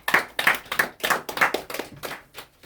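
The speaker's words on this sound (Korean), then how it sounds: "이런 분들 격려의 박수 한번 해주시기 바랍니다" An audience at a memorial gathering claps in encouragement, a loose, close-sounding run of about a dozen distinct hand claps that gradually slows and thins out.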